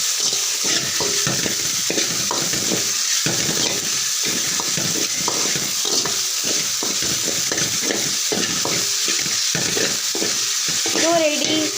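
Pasta and egg stirred together in a frying pan at home, a steady sizzle under repeated rhythmic scraping and clinking of a utensil against the pan throughout, with no talking.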